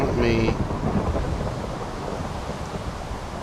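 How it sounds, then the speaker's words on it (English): Rain and rolling thunder in the game TerraFirmaCraft, a loud low rumble fading into a steady wash of rainfall that continues throughout, with no talk. "I'm going to wait for the morning and for the rain to pass over"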